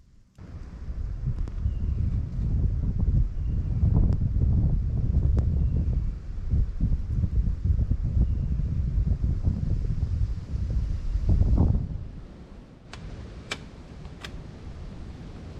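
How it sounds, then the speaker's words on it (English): Strong wind gusts buffet the microphone at a solo truck campsite in the morning, a steady loud rushing roar that eases near the end, leaving a quieter breeze with a few faint ticks. "It's a windy day this morning, folks."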